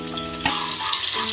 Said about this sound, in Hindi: पैन में हमने तेल डाला है, तेल हमारा गर्म हो चुका है। सबसे पहले हम प्याज और शिमला मिर्च डालेंगे।